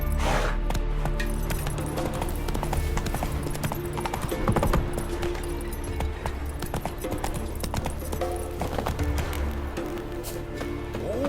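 A horse's hooves clip-clop steadily at a trot in The Witcher 3: Wild Hunt on PlayStation 5, a continuous close rhythm layered over game ambience and soft clinks of tack.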